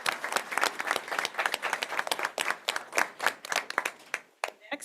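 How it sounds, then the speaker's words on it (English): A school board meeting audience applauds middle school award winners with dense, steady clapping from many hands that fills the room, tapering into a few scattered claps at the end. "Please give our middle school winners a round of applause."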